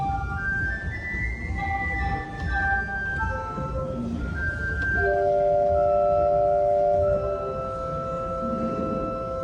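A pipe organ plays a chuffing mutation stop, heard alongside a piccolo and a clarinet stop on an instrument that is out of tune: sustained, slightly wavering held notes and shifting chords that fill the space, fairly loud, with no talking over them.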